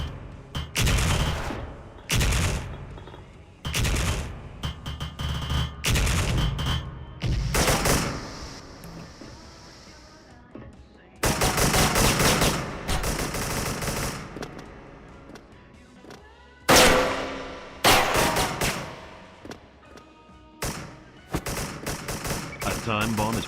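Loud bursts of automatic gunfire in a shooting video game, coming in uneven clusters of rapid shots separated by short pauses.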